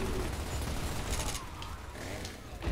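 Rapid bursts of gunfire from Gears of War: Ultimate Edition, a dense fusillade of loud, close shots crackling through the whole stretch with a heavy low rumble beneath.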